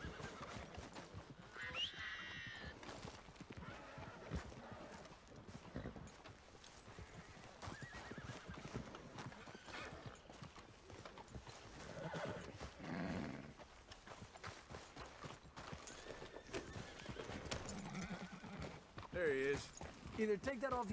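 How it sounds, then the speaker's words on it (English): A horse in Red Dead Redemption 2 whinnies and neighs while its hooves clip-clop steadily, set against game sound, music and occasional voices. "Está mi caballo."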